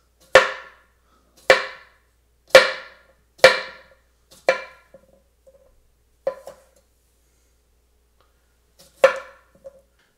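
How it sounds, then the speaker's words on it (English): Knife slicing a cucumber on a cutting board for a Greek cucumber salad, seven crisp, sharp chops spaced about a second apart, then a few softer taps, close and clear with no talking. "Let's cut the cucumber right now, okay? So we're gonna cut it by slices."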